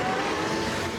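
A vintage classic car converted to electric drive runs steadily nearby, giving a continuous even road and motor hum for the whole moment without any talk.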